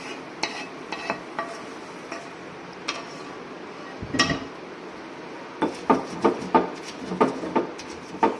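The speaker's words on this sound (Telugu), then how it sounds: "కొంచెం దంచుకొని ఫస్ట్ దీనిలో కూడా పచ్చిమిరపకాయలు వేసేసుకోవాలి" Fried green chillies pounded in a mortar, sparse knocks at first and then a run of rhythmic thuds with a clacking, hard ring, close and clear.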